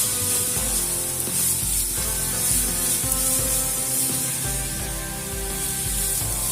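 Cauliflower fries in a pan over a high gas flame while it is stirred, a steady broad sizzling hiss running throughout with a constant tonal hum in the background.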